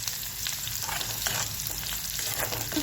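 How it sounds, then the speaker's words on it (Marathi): Cumin seeds and garlic fry in hot oil for a Maharashtrian village-style drumstick leaf dish, giving a steady close crackling sizzle throughout with light stirring scrapes and no talking. "तेल गरम झाले की त्याच्यामध्ये टाकणार आहे जिरी, त्यानंतर टाकणार आहे लसूण"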